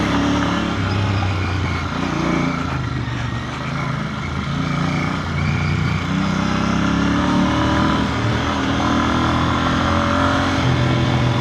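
A Royal Enfield Bear 650 motorcycle on a test ride over unpaved ground, its engine droning continuously and loud, rising and falling with throttle under heavy wind rush.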